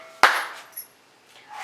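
A single sharp hand clap during a classroom phonics listening game, loud and close, followed by a quiet room with faint scattered noises.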